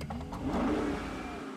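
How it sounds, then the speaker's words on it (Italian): Simulated engine sound of an electric SRT Demon in GTA 5, a steady synthetic revving drone with a rising whine, loud and continuous with no talk over it. "Abbiamo un finto motore, un finto, che ne so io, sono le ventole di raffreddamento delle batterie."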